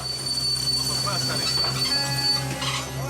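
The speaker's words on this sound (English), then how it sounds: "Mr. Molongo has to brake suddenly" The Hirondelle train brakes hard on railway tracks in Katanga, Congo, with high metallic wheel squeal ringing over a low rumble, close and loud, while a voice talks underneath.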